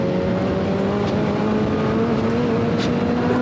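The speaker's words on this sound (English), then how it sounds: "The K20 engine doing it." An Ariel Atom with a Honda K20 engine drives hard on a short track, a steady loud engine drone climbing gradually in pitch through the gear under heavy wind and road noise.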